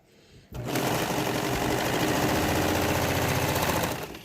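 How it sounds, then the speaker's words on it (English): A serger sewing machine runs fast and steady, stitching the straight edges of a fitted fabric mask with a close, even mechanical whir for about three and a half seconds after a brief quiet moment. "So what I do is I'm going to serge the straight edges on here."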